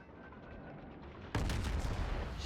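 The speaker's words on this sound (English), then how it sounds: "I am going to keep firing HE at her" Heavy naval guns firing high-explosive shells from a warship in World of Warships, the Zao cruiser; a steady low rumble breaks into a sudden loud, sustained blast of gunfire that continues to the end.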